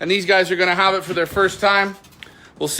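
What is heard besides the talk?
No everyday noises stand out.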